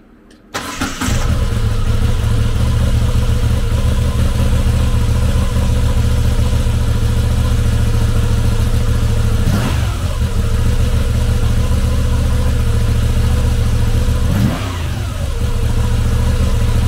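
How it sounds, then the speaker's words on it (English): A 2022 Moto Guzzi V85 TT Guardia d'Onore with an 853cc V-twin engine starts up and settles into a steady, loud, close idle with a deep throb, rising briefly in a couple of short throttle blips. "Powered by an 853cc V-twin engine, the GUARDIA ONORE puts 76 horsepower and 60 foot-pounds of torque through a 6-speed transmission."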